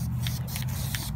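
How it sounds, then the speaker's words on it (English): An aerosol spray paint can hisses in several short bursts close by, over a steady low hum. "I'm not letting this one get away without a little spray paint on it. I'm gonna spray paint here."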